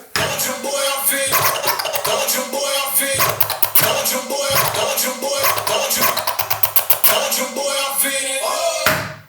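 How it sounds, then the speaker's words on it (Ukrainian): Scratch effect from a Pioneer DDJ-FLX6-GT DJ controller's Cutter mode over a playing track, loud and continuous with rapid choppy stutters and cut-up rhythmic bursts toward the end. "Також в нас є опція Cutter, яка дозволяє нам скретчити без використання кросфейдера."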